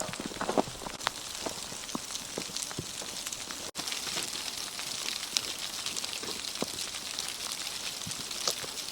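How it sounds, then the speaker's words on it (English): Sleet, or frozen rain, falls on leaves in a Maine state park, making a steady soft hiss with scattered faint ticks and taps throughout, quiet and unbroken, with no one talking. "or frozen rain makes quite a beautiful noise on leaves."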